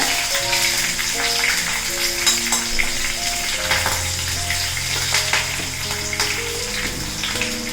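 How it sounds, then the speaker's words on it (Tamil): Garlic and green chillies sauté in hot oil for a Tamil banana-flower poriyal, giving a steady, close sizzle and crackle over a constant low tonal hum, with no talk. "இது எல்லாத்தையுமே நீங்கள் நல்லா எண்ணெயிலே நல்லா வதக்கிடுங்க."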